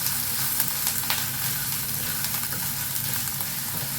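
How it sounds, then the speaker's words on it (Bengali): Onion frying in a pan, a dense continuous sizzle with a few small crackles and faint stirring, close-up and steady, no voices. "পেঁয়াজটাকে একটু ভাজবো, একেবারে লালচে করে নয় কিন্তু"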